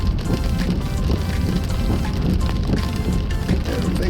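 January rainstorm in Monrovia, Liberia, heard as a dense, steady roar of heavy rain drumming on surfaces, loud and continuous with a low rumble underneath.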